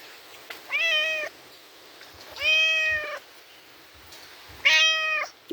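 A house cat meowing indoors, three separate drawn-out meows spaced a second or two apart, close and clear over a quiet room hiss.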